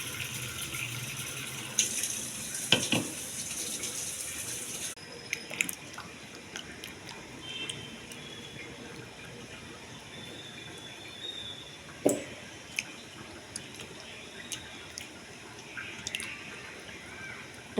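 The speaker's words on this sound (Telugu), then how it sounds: "పావు కిలో కాయలు కడిగి శుభ్రంగా ట్యాప్ కింద పెట్టి శుభ్రం కడగాలండి ఒక 2-3 సార్లు" A quarter kilo of grapes is rinsed under a running tap, with a steady faint water hiss, scattered drips and small splashes and knocks from the fruit being handled, without talk.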